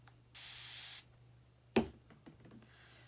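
A small hand spray bottle used while crafting with chalk paste gives a hissing burst of mist, then a sharp click of the trigger and a few faint handling sounds.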